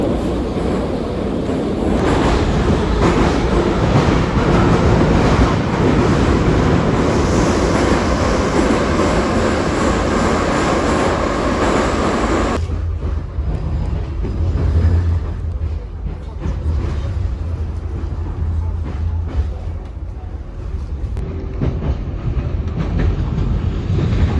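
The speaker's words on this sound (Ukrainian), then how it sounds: "Ой, коротко кажучи, ми вже в метро." A subway train rolls through the metro with a loud, continuous roar and rattle that drops abruptly to a lower rumble about halfway, wheels clicking and squealing faintly, with a few voices underneath.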